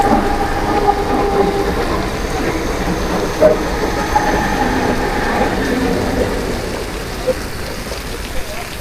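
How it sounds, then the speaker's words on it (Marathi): A train rolls along steadily through heavy Mumbai monsoon rain, its droning rumble and wheel clatter blending with the constant wash of rainfall. "आपली ट्रेन चालली मित्रांनो"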